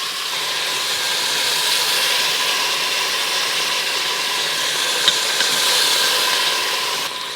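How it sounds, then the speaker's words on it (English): Pork belly sears in a hot pan, a loud, steady broadband sizzle and hiss that holds evenly throughout with a small crackle near the end. "we're just gonna brown it on 2 sides. So add your pork belly."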